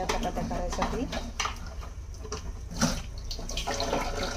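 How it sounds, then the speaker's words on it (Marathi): A metal kneading pot for chapati dough is washed under a running kitchen tap, with splashing water and light clatter. A voice can be heard speaking quietly in the background. "त्यासाठी मी ते लाडगं भांडं आहे ते धुवून घेतलं"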